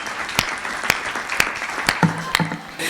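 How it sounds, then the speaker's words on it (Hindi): An audience at a Hindi comic poetry gathering claps in scattered, uneven bursts rather than full applause, sharp hand claps popping out every half second or so, with a voice murmuring underneath. "ताली बजा सकते हैं आप"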